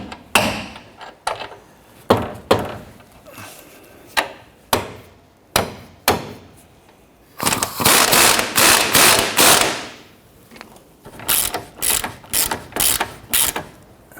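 Metal hammer taps ring out on the front lower control arm of a 1992–1996 Toyota Camry as it is knocked into line for its bolt, first in single spaced blows, then in quick clustered bursts, loud and close.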